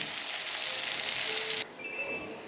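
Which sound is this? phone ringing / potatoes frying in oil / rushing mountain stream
potatoes frying in oil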